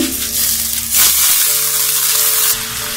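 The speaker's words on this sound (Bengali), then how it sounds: "আমি এখন পোলাও চালটা দিয়ে দিচ্ছি।" Polao rice goes into a pan of browned onions frying in oil. A loud, close sizzle swells as the rice lands, then settles into a steady hiss, with no talk.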